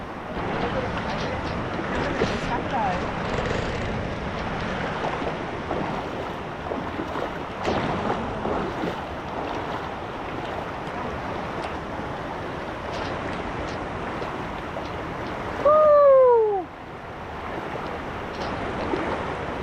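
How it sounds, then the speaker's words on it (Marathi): A river swollen with monsoon rain near Kondi waterfall rushes in a continuous broad roar close by, with a brief whistle-like tone rising over the flow near the end. "इकडे नदी आहे. जर पाऊस जास्त असेल तर ह्या नदीला पाणी भरपूर येतं इकडे."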